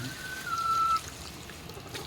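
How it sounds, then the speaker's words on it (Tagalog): Water is poured into a cooking pan of pork, bitter gourd and tofu in a short splash of about half a second, with a faint whistle-like tone over it. "Lagyan natin uli ng tubig kasi naubusan."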